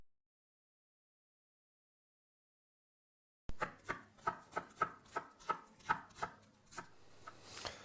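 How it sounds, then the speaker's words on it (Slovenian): About a dozen crisp knife strokes chop two onions on a cutting board, close and steady in an even rhythm after a stretch of silence. "Zdaj imamo 2 čebule, ki jo bomo narezali."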